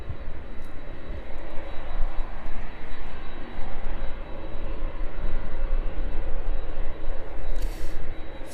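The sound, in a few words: Boeing 737 jet climbing away after takeoff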